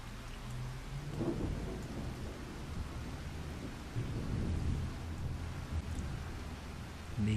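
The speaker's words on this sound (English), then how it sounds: "we're only going to get rain." Steady rain with rolling thunder in the Farming Simulator 25 farming game, a dense continuous downpour with low rumbles building and swelling throughout, no voices.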